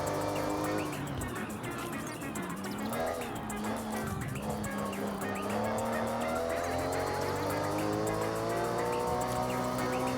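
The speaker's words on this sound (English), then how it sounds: "Sounds low-key nice, the engine tone." A car engine in the Forza racing game revving and shifting through gears with rising and falling harmonic tones, plus tire squeal, loud and continuous throughout.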